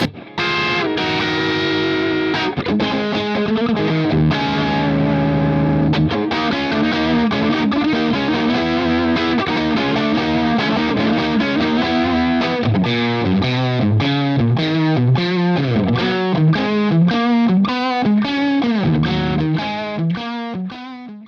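Distorted electric guitar on the middle pickup position through a Morgan MVP66 amp, played continuously for about twenty seconds, chords giving way to quicker picked note runs, loud and close.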